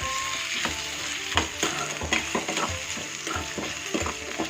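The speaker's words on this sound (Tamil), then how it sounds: "மாங்காவை நல்லா மிக்ஸ் பண்ணிடுங்க." A spoon scrapes in a quick, regular rhythm through an instant pickle of Bangalore mango pieces in a pan, close and clear over a faint sizzle, with no voices.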